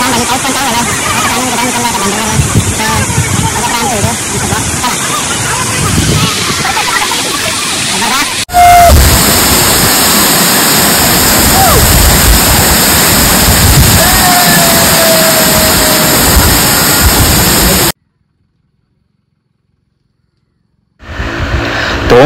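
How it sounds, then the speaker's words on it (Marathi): Vasundhara waterfall at Bhandardara hill station roars in heavy monsoon rain, a loud, dense, unbroken rush filling the whole clip before cutting off abruptly into a short silence near the end. "पहिला धबधबा आहे"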